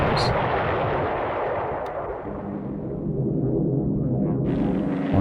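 Torpedo explosions and heavy gunfire rumble through a war video game naval battle, a dense, loud roar of blasts and low booms sustained throughout, with a sharp crack near the middle.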